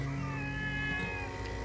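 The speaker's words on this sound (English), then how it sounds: "Now the cat's yelling." A cat yowls on a small family farm, a sustained, wavering caterwaul that holds steady throughout, close and loud, with low rumbling background noise underneath.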